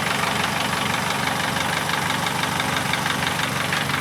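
A Vauxhall Corsa D engine with a full straight-pipe exhaust idles loudly and steadily with a raw, rumbling exhaust note and a rapid, even pulse, close up and unbroken.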